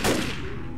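A single loud gunshot in the Left 4 Dead zombie shooter game, a sharp near blast followed by a short decaying ring.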